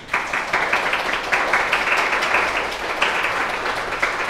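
A Sunday church congregation applauds to welcome a returning visitor, a sustained mass of hand claps with small surges in intensity, moderately loud and continuous, with no voices over it.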